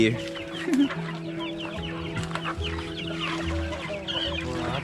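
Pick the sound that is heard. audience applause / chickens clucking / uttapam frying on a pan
chickens clucking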